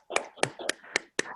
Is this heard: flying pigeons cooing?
no